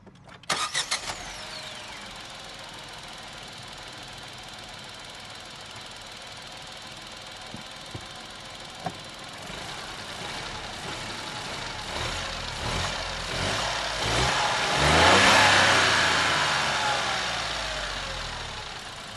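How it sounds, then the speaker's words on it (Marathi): A Tata Punch iTurbo with a 1.2-litre three-cylinder engine starts with a brief crank, settles into a steady idle, then revs up to a louder peak and falls back, heard close with no talk. "इंजिन स्टार्ट करून बघूयात की कशा प्रकारे आवाज मारते."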